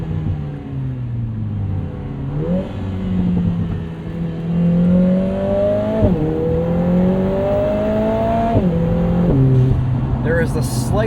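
A 2024 Lotus Emira Turbo sports car with a 400 hp AMG engine revs and pulls through gear changes, its loud, rising engine note dipping at each shift, heard from inside the cabin with some talk underneath.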